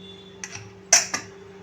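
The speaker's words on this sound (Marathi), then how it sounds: "तर आता आपण झाकण खोलून बघूया" A pressure cooker lid being opened after cooking chana dal with dudhi: a few faint, brief metallic clicks and clinks, the sharpest one about midway, in a quiet kitchen.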